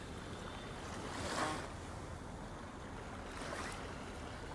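Waves lapping on Lagoa da Conceição lagoon, a steady wash of water with two gentle swells rising and fading, wind noise rustling throughout and no talking.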